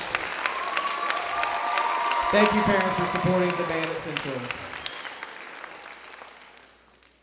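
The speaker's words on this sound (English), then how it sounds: "Kids down here, could you applaud for your parents?" Student band members at a junior high spring band concert clap for their parents, a steady broad round of applause that swells and then slowly fades, with someone speaking over it through a microphone.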